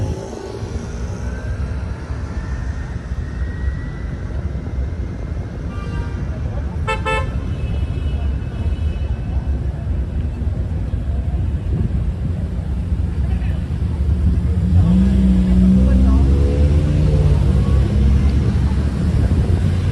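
Busy Miami downtown street near Southeast 8th Street and Brickell City Center on a Friday night, with a steady wash of passing cars, a brief car horn toot, and rising rumble of traffic growing louder toward the end.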